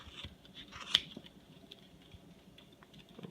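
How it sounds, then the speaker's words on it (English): A thin pair of scissors snipping fabric while cutting out a hat pattern, giving faint, soft irregular clicks and snips with one sharper cut near the start, heard alone at low volume. "So a thin, good pair of scissors is great."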